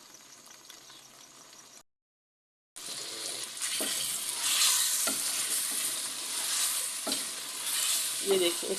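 Onion and tomato gravy for aloo matar frying in a pot, a steady close sizzle broken by stirring scrapes, after a brief cut to silence.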